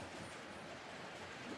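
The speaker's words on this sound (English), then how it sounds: "There's the new train going through" A model railway train runs along a lit layout, a steady low rumble and rolling clatter continuing throughout at moderate volume with no voices.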